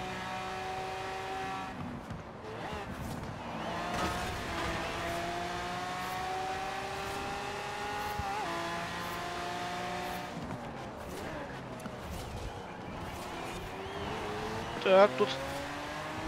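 A Lamborghini races in Forza Horizon 4 on a direct drive wheel. The engine drones and revs steadily with rising and falling pitch through corners, and a brief screech comes near the end while someone talks over it.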